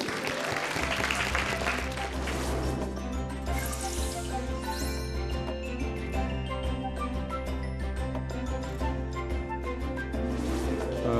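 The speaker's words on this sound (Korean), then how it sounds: "송종빈 아버님을 여러분 큰 박수로 맞아주세요" Sustained audience applause welcoming a speaker at a concert event, dense clapping carrying on for the whole stretch with music playing underneath.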